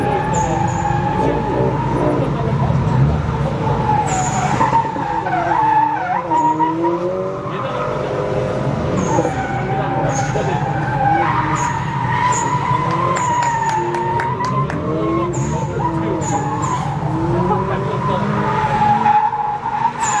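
A car drifts with loud, sustained tire squeal and skidding over a revving engine, the screech rising and falling through clutch-kicked slides, with a voice talking over it.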